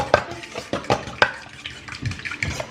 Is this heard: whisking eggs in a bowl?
yes